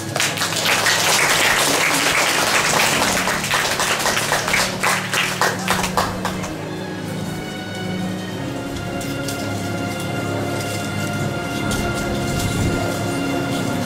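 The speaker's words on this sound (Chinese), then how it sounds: "掌声" A crowd claps loudly and densely at a primary school graduation ceremony, during a presentation to the parents' association president. The applause fills the first six seconds, then fades into a faint, steady room hum.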